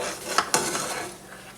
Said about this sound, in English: We're gonna go ahead and stir it,